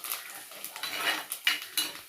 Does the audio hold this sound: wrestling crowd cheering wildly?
no